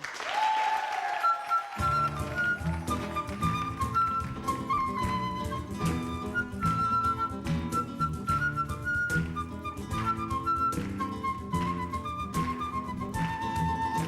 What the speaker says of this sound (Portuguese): Eu peço um grande aplauso para Maria do Céu.